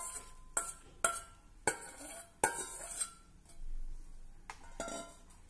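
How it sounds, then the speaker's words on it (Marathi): Soaked sago pearls go into a pan with green chili paste, with several sharp clinks of a spoon against the pan, a brief soft scrape and stir between them, then a couple more taps. "आता यामध्ये भिजवलेला साबुदाणा घालूया."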